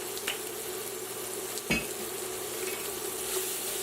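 Fish with tomatoes sears in a pan, producing an even, moderate sizzle throughout, broken once by a single knock of a utensil against the pan.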